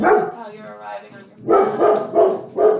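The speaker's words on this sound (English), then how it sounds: "That's my dog." A dog barks in four rhythmic, fairly loud yaps near the end, following a stretch of calm talking from a yoga instructor.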